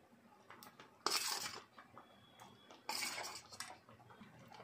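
Paneer pieces go into a pan of garlic spinach with two brief clattering bursts of a utensil knocking against the pan, separated by quiet, faint kitchen background.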